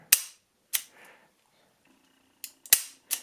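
Taurus 627 Tracker stainless .357 Magnum revolver with a 4-inch barrel, dry-fired in a quiet room, giving several sharp, close mechanical trigger clicks spaced irregularly with short pauses between them.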